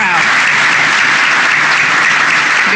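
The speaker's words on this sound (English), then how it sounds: "let's just take a moment to give them a round of applause" An audience applauds at a speech event on military credentialing and licensing, a loud, dense, continuous clapping filling the whole stretch.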